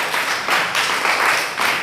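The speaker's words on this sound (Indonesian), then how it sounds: "Ada, tepuk tangan untuk Huda Paujan." A classroom group claps in a brief, fairly loud burst of applause, with uneven overlapping hand claps rising and falling over about two seconds.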